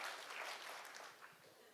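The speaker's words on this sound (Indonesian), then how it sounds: "Berikan tepuk tangan yang meriah" Church congregation applauding during a sermon, a steady broadband patter of many hands clapping at moderate, fairly distant level throughout.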